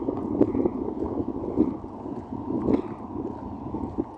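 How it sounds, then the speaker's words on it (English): Low rumbling wind buffeting the microphone, steady and loud with gusty swells throughout, no other clear sounds. "Like I said, it's windy. I'm sorry if it's loud."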